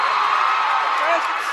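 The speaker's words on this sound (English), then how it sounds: "And the crowd is getting up here. Crowd getting loud." Crowd at a girls' high school basketball game cheering and yelling loudly, a dense, sustained roar of voices close around, with a speaking voice over it.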